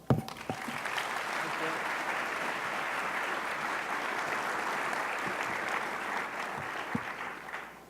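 Audience applause welcoming Director of National Intelligence Clapper at a speaking event, steady clapping sustained across the whole stretch at an even level, with a few sharper claps standing out near the start and end.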